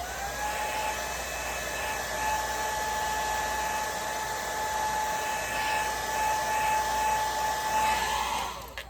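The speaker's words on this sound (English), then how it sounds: "And I'm going to blow dry it." A hair dryer blow-dries a deep wave wig, a steady close whooshing hum with a faint whine that runs unbroken for several seconds, then cuts off at the end, with no one talking.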